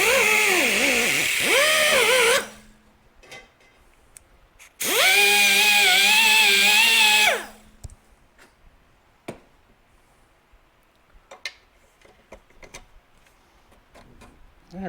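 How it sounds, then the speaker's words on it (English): Power tool deburring a Suzuki TS250 exhaust pipe baffle, two loud whining bursts of a few seconds each with rising and falling pitch, followed by quiet handling clicks and taps. "I think I better deburr that a little bit more"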